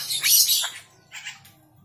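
A young three-month-old straw-headed bulbul (cucak rowo) gives a bright, loud chirping burst followed by a shorter second call, close by with little else around.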